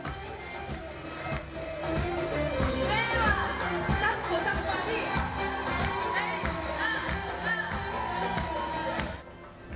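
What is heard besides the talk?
concert audience at Carthage amphitheatre, mostly women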